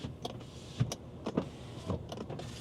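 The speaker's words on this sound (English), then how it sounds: "do my windows work?" Electric power windows on a Volkswagen Touareg V6 whir up and down in several short separate bursts, close by inside the car with quiet gaps between each run of the motors.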